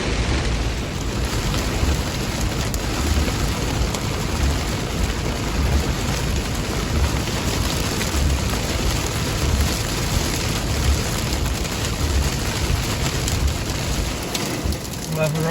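Heavy rain with hail pounds on a truck during a storm, a dense, continuous roar of drumming impacts at close range that holds steady for the whole stretch.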